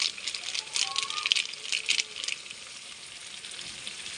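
Spices and masala sizzle as they are sautéed for a goat meat curry, a bright, steady frying hiss with a few clinks and stirring rattles near the start that fade into a softer sizzle.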